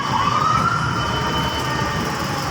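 Fire truck sirens wail steadily, rising in pitch, as the trucks leave a fire in Binondo, over loud rumbling engine and heavy traffic noise close by.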